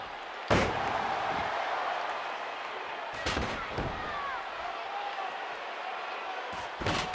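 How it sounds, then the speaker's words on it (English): Sharp, loud impacts from elbow strikes to an opponent's back during a wrestling match, several heavy slams spaced a few seconds apart over crowd and arena ambience. "Brilliant set of elbows right to the back."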